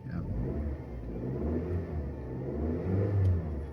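A Ford Mondeo engine idles with a steady low rumble, joined by faint background noise and a slight rise in revs near the end.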